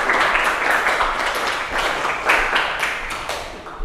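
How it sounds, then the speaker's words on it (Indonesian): Classroom applause, a burst of brisk clapping from a group of students that stays fairly loud and close for about four seconds, with no talk over it. "Tepuk tangan untuk mereka berdua."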